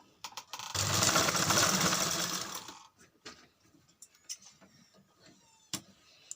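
A sewing machine stitches cloth for a latkan tassel in one loud whirring burst of about two seconds, followed by quieter clicks and handling sounds nearby.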